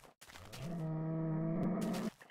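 A cow in the Minecraft video game lets out one long, sustained moo, close and clear against a silent background.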